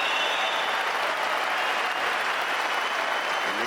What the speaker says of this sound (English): the crowd going quite crazy here